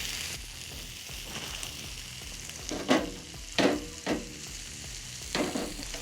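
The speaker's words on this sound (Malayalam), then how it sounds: "കുറച്ച് കറിവേപ്പില ഇടാം." A chef at a Wayanad resort fries curry leaves in a pan, giving a steady, close sizzle. Several louder stirring scrapes and hisses break through the sizzle.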